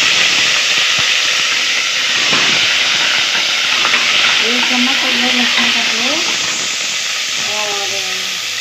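Ginger garlic paste frying with fried potatoes in a hot pan, a steady loud hiss and sizzle close up, with a few faint clinks and brief tonal squeaks partway through.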